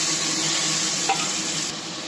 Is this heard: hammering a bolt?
no